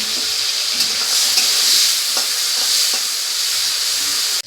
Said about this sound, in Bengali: এবারে এই তেলে আমি এই চিংড়ি মাছটা ভেজে নেব।